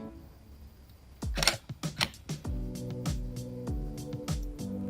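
A Canon EOS 1500D camera set to a slow shutter speed fires a series of sharp mechanical shutter clicks, close and distinct, repeating irregularly against a quiet background with a faint low hum.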